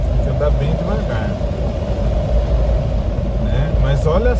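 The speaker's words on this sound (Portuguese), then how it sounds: "Mas olha só a tempestade que tá caindo." Heavy rainstorm in Itu, heard from inside a car creeping slowly along; a steady dense wash of rain and low road rumble fills the whole clip, with faint voices now and then.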